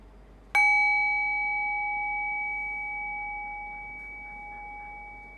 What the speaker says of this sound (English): Rest your thinking mind on the sound of the bell. Allow the decay of the bell to guide your awareness into silence.